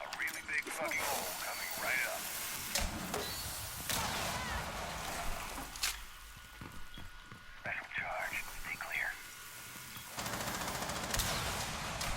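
Gunfire in the shooter game Rainbow Six Siege comes as scattered sharp shots and short bursts under near-constant excited talk from players.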